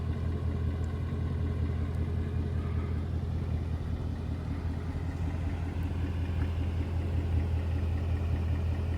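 A Ford Mustang engine with active valve exhaust idles with a steady, deep exhaust rumble, loud and close, droning continuously without pause.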